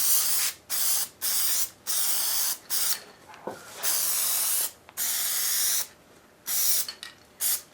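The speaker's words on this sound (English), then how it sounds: "I must say this stuff sprays pretty nice." Spray adhesive hisses from a can onto upholstery material for an F100 door panel, in about nine sharp bursts of roughly half a second to a second each with short gaps between them, close and clear, with no talking.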